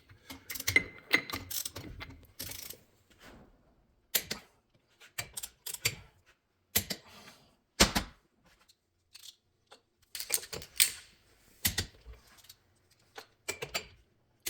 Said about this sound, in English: So we've got all of our bolts in. I'm just nipping them down by hand.